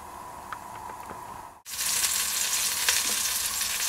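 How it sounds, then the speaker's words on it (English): Flour-dusted lamb shanks brown in hot oil, with a steady crackling sizzle that briefly drops out, then returns louder and fuller, close up and without talk. "throw in a couple of lamb shanks. I've just dusted these in a bit of normal everyday flour, and just cook them until they've got a nice bit of colour on them"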